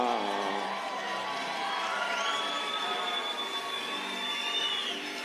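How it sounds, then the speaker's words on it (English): A boxing arena crowd cheers and shouts as a fighter makes his ring walk, a steady, distant roar of many voices holding level throughout, with a rising whistle-like tone sweeping over it. "Listen to that crowd."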